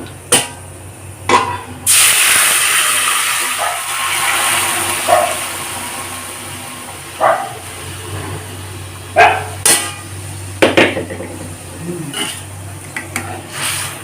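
Boiled lentils hit a hot fennel tempering in a pan, bursting into a loud hiss that settles into a steady sizzle, broken by sharp clinks of a utensil against the pan.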